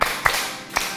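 Students in a classroom clap together in short sharp bursts, four distinct claps audible in quick, slightly irregular succession at moderate loudness.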